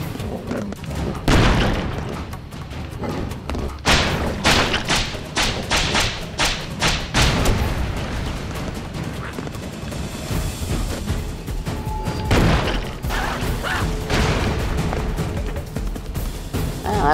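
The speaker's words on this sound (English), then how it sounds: "I think there are airstrikes going on above us." Airstrike explosions in the video game Broforce, a dense, loud barrage of booming thuds and blasts piling over one another with little pause throughout, with no speech.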